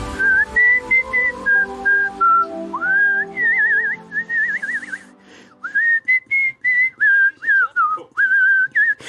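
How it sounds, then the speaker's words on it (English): A person whistles a lilting melody up close, clear bright notes sliding and trilling in phrases with short pauses between them. "I was doing my Disney whistle"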